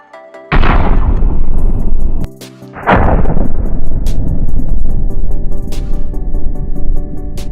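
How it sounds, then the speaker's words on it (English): Two grenade explosions in Call of Duty Mobile, each a sharp, loud blast that decays into a rumbling tail, the second following about two seconds after the first, with brief high clicks afterward. "have a look at these two explosions"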